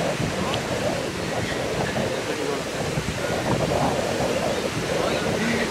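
Wind buffets the microphone at a beach in Tulum, Mexico, mixed with a steady wash of surf and faint, indistinct voices in the background.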